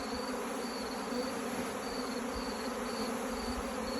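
Honey bees buzz in a dense, continuous drone around a hive, loud and close, with a steady high whine layered over the swarm and no talking.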